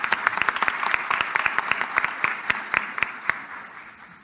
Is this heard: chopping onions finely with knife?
no